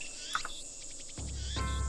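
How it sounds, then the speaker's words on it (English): Cicadas drone and chirp in a summer evening scene from the visual novel Steins;Gate, a buzzy pulsing insect chorus that thickens partway through and holds steady to the end, with no voices. "Damn cicadas won't shut up."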